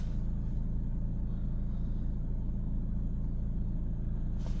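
A Mercedes CLS engine idles steadily inside a workshop during fault diagnosis of a DPF pressure sensor, producing a constant low rumble that runs alone throughout without talk.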